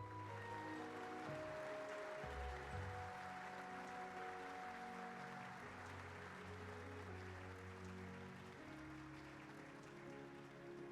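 Sustained crowd applause in a Trails of Cold Steel III cutscene, a steady wash of clapping lasting throughout beneath layered music tones.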